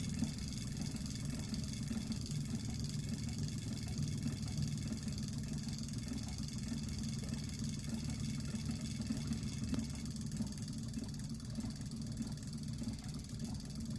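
Small pulse motor driven by a signal generator pulsing at 240 hertz, testing two series-wired coils of 32 and 34 gauge wire: a steady, even hum and buzz held at one level throughout, alone with no talk.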